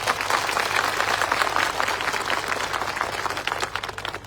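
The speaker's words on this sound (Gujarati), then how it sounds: "બધા માટે એકવાર આપણે જોરદાર તાળીઓ પાડી લઈએ" Dense, steady applause from a large crowd at a political rally in Valsad, sustained and loud throughout with a faint low hum underneath.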